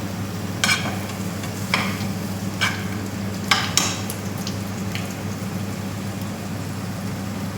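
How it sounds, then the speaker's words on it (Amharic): Onions fry in a pan with a steady low sizzle, broken by several sharp scrapes and clinks of a utensil stirring against the pan, close and moderately loud, no speech. "ሽንኩርቱ ትንሽ ብራውን እስከሚሆን ድረስ አብስለን"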